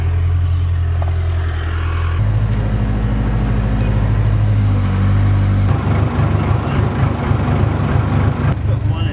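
A backhoe engine runs steadily at a building site during sill plate installation, loud and close with a constant low rumble that shifts in pitch partway through, as people talk over it.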